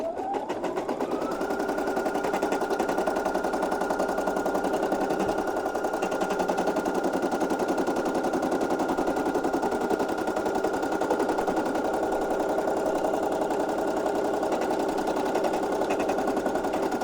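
A sewing machine runs steadily at high speed, stitching a satin border on an appliqué shirt; a continuous, loud, rapid mechanical whirr with a dense needle rhythm, alone and unbroken throughout.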